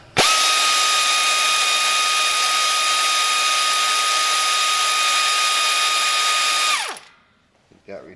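A power tool runs loud and close for about seven seconds, removing the front brake caliper retaining bolt on a 2003 Ford Expedition, with a steady high whine that spins down and stops near the end.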